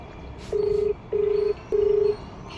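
A telephone call being placed sounds three steady, identical electronic tones, each about half a second long and evenly spaced, clear against a quiet room with no speech.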